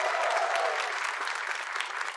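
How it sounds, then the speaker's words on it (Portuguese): Steady, dense studio audience applause at a Brazilian TV talk show taping, loud and continuous throughout with no break. "Aplausos aí, minha gente!"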